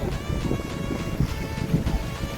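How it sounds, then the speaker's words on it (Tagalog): Strong wind buffets the microphone outdoors beside Bristol Cathedral on Christmas Day, a loud, gusty, continuous rumble with no talking. "Grabing hangin."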